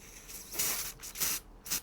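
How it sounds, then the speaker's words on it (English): Grease sprays from an aerosol can onto a turntable part during restoration of a Precedent gramophone: three short, close hissing bursts with brief pauses between them. "I'm just going to spray some grease just on this"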